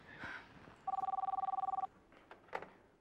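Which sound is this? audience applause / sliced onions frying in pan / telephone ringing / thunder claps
telephone ringing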